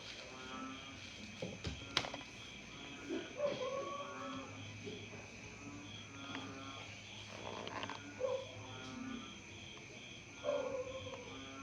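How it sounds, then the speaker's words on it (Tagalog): Frogs croak in repeated bursts every few seconds over a constant high insect trill on a quiet night. "Yung maririnig mo lang dito, yung mga palaka."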